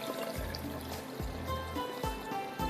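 Water pours from a container into an aam ka panna mixture of mango, cumin and black salt, a soft continuous trickle with a few gentle sloshing surges, close and faint.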